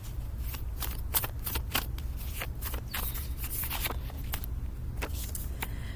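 Oracle cards are shuffled outdoors in a run of quick, crisp riffling flutters, close and distinct over a low steady rumble of passing traffic.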